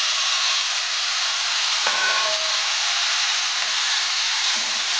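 Boiled pumpkin and potato pieces fry with cumin seeds in a pan, giving a steady, close, even sizzle throughout with one brief clack of utensil partway through.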